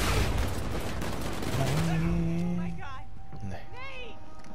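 Gunfire from the video game Uncharted 4, a fast burst of shots under game effects and background noise, with someone talking over it.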